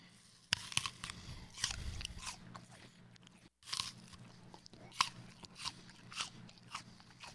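Crisp bites into a juicy Granny Smith apple followed by close, wet crunching and chewing, several sharp bites spaced through the clip with no talking.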